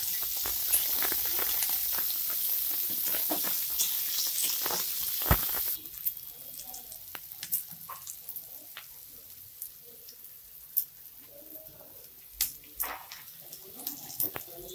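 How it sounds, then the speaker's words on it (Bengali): Two chopped onions fry in hot oil with a dense crackling sizzle that later settles into a softer hiss, dotted with sharp pops and clicks of stirring and spattering. "পেঁয়াজটা একটু লাল লাল করে প্রথমে ভেজে নেব"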